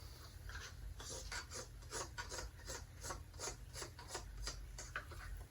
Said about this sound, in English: You scrape that in there a little bit.